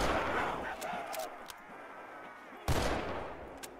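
Gunfire from a weapon in the Roblox game Resurrection: a loud burst of shots at the start, a few scattered cracks in the middle, then another sharp volley near the end.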